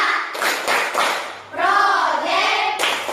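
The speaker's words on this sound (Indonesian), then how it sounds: "Kita lakukan tepuk P5." Schoolchildren perform a rhythmic P5 clapping chant in a classroom, with bursts of group clapping alternating with children's voices chanting together, loud and close.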